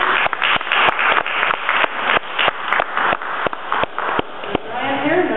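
An audience at a history talk claps in a quick, evenly spaced series of sharp, close claps that fade toward the end, with a few voices briefly audible.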